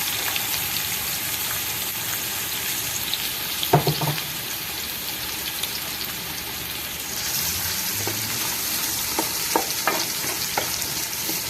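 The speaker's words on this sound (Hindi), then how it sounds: "पैन जो है वो गर्म हो चुका है। बिस्मिल्लाह। प्याज सारे एक दफे डाल देंगे।" Onions dropped all at once into a hot pan for a pumpkin curry, a continuous loud sizzle that swells partway through, with occasional spatula scrapes and clinks, close by and with no voices.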